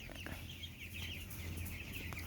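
Young broiler chickens about 17 days old fill a crowded poultry house, their soft, continuous clucking and chirping carried over a steady low hum of ventilation blowers.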